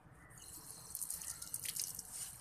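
Wheat roti dough is rinsed under running tap water in a kitchen sink, a soft steady trickle with faint splashes and drips, fairly quiet and close.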